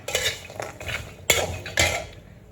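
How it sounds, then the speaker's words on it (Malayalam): A spoon scrapes and clinks against a hot pan while protein powder mix is stirred, rhythmic close metallic scraping strokes with sharper knocks partway through. "ഇങ്ങനെ ഇളക്കിക്കൊണ്ടേ നിൽക്കാം"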